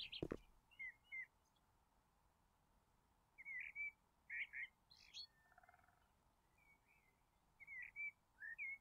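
Bird chirps from the House Flipper game, arriving as short bright tweets and whistles in scattered bursts over a quiet background, with a couple of brief flurries and long pauses between them.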